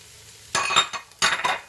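Chopped celery, jalapeno, yellow pepper and yellow onion hit an oiled Instant Pot in two short bursts of sizzle and clatter, each swelling and fading within about half a second against a quiet background.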